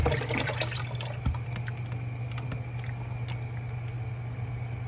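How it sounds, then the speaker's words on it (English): Steam roll batter mix is poured into a pan, a steady liquid trickle with some splashing over a constant low background hum, no talking. "That way you can easily pour the mix in there."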